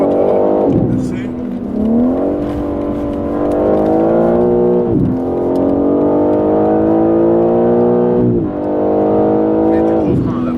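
BMW M3 driven hard on the Nürburgring, a loud engine revving up through the gears in repeated rising sweeps, each ending in a sharp drop at an upshift, about three pulls in a row.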